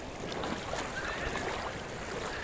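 A small river flowing in a constant close wash of rushing, gurgling water, steady and moderately loud with no voices.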